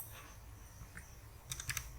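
A few quick keyboard taps sound against a low background hum, ending in a short cluster of clicks as a number is entered and the enter key pressed.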